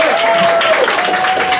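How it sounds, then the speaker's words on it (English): A stand-up comedy audience gives a brief round of applause for Taco Bell, a dense wash of clapping that runs for the whole moment, with a faint voice underneath. "Wow, Taco Bell gets a round of applause."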